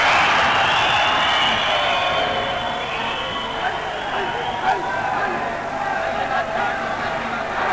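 A boxing arena crowd roars wildly and steadily throughout a Tony Hill bout, a dense wash of cheering beneath continuous commentator talk.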